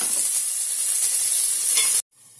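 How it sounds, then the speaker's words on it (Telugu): Finely chopped onion and vegetables fry in a pan for a potato and cabbage curry, giving a steady, close sizzle with bright hiss. The sound cuts off abruptly near the end. "ఇప్పుడు అవి కూడా వేగుతున్నాయి"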